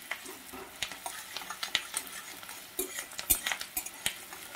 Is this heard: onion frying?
yes